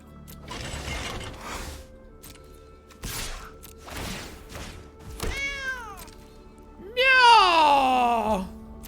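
A cat gives two meows, the second louder and longer, after a run of mechanical ratcheting clicks and whirs during an MTG Arena match.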